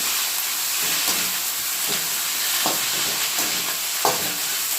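Moringa leaves frying in hot oil for tempering, a loud continuous sizzle with a few sharper crackles and pops scattered through it.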